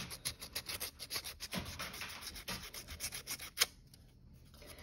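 Sandpaper rubbed by hand over a copper electroformed jewelry piece, a close, steady run of scratchy strokes in quick rhythm that stops partway through, leaving near silence.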